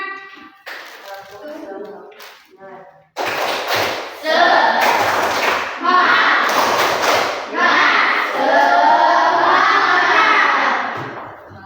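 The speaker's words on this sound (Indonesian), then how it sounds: "Gimana tepuk semangatnya kalau masih semangat?" A class of students performs the 'tepuk semangat' clapping chant: rhythmic group claps and thumps with children shouting along, starting sparse and then building into loud, dense clapping and voices that keep going to the end.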